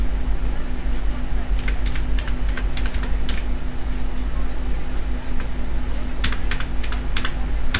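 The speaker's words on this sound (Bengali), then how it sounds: "এখন আমরা আমাদের এনআইডি নম্বরটি লিখতে পারি।" Steady close clicking of a computer keyboard as an NID number is entered, irregular bursts of keystrokes over a constant background hum.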